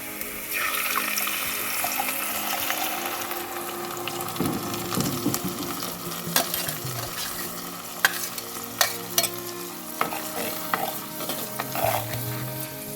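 Ground masala is stirred into onions frying in a pan for a spicy fish curry, with steady sizzling and repeated scraping spoon strokes and knocks, no talking.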